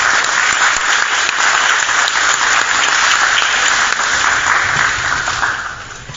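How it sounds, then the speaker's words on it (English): Loud, sustained applause from an audience at a Job Corps Center signing day, dense clapping filling the whole stretch and tapering slightly at the end. "give them all a round of applause"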